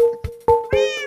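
Minecraft cats meow several times in quick succession, with clear, close in-game mews in a short irregular series.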